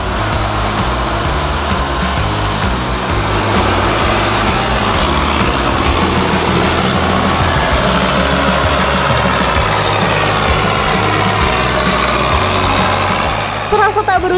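Off-road vehicles grind up a long, steep near-vertical climb, a loud continuous engine drone with revving swells running throughout, under steady outdoor noise.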